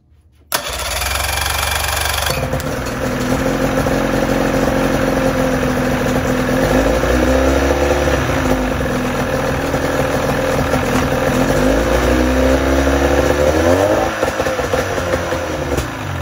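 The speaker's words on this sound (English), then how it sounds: "So now let's crank it up and see if it'll run." A car engine cranks briefly and then catches after its carburetor was cleaned of a stuck needle, running loud and steady close by with small rises and dips in revs.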